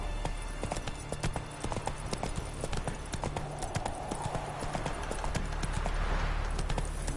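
A horse galloping in The Witcher video game, with fast steady hoofbeats drumming throughout over a constant ambient game backdrop, and no clear talk.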